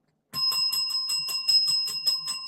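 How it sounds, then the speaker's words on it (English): A small bell rings close by in a rapid run of bright, repeated chimes that starts abruptly after a moment of silence and continues steadily. "I found my bell. I found the bell."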